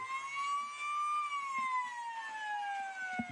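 A single wailing siren slowly rises and falls in pitch at a soccer game, heard at a moderate distance with faint background thumps and no talking.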